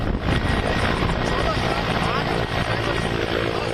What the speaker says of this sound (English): special operations drills using Apache attack helicopters, Chinook transport helicopters and Mi-17s